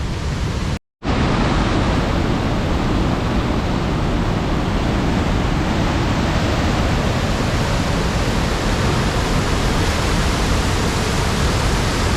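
Loud, dense, steady roar of rushing floodwater during a flash flood near a campsite road, a continuous broadband torrent filling the whole clip after a brief dropout at the start.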